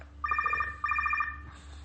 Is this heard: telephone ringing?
yes